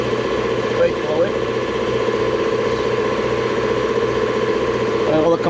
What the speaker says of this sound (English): Gotta give the compressor time to build up too.